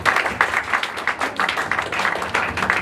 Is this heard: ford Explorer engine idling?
no